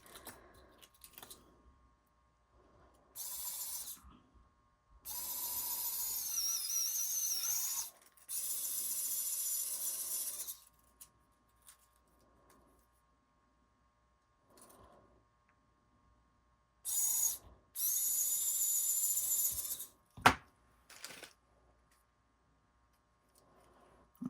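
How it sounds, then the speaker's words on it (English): Several bursts of a power drill boring into the top of a small wooden earring piece, each lasting a few seconds with pauses between, plus small clicks and handling noises. "let me drill my top here."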